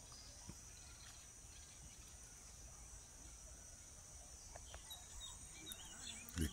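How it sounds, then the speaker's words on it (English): Faint birds call in a distant outdoor chorus, scattered chirps over a steady high buzz of insects, fairly quiet throughout. "The chorus sounds and other birds."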